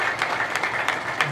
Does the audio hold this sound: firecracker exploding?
no